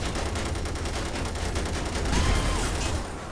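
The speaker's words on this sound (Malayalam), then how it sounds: "ഓക്കെ നാല് സൈഡിലും കറങ്ങി വെടിയിക്കാൻ പറ്റുന്ന ഗണ്ണാണ്." Rotating car-mounted guns fire in GTA 5: a loud, continuous rapid rattle of gunfire in close, fast repetition, with a heavier boom near the end.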